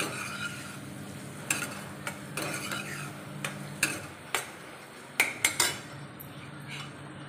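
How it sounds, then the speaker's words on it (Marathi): Masala and onions are stirred in a pan as they sauté for a mushroom curry, with a soft steady sizzle under intermittent close clinks and scrapes of a spoon against the metal. "छान वास येईपर्यंत मसाला परतून घेऊया याच्या कांद्यामध्ये."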